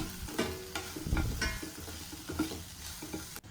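Small shallot-type onions frying in hot oil for onion rice, sizzling steadily while a utensil stirs and scrapes the pan in several bursts.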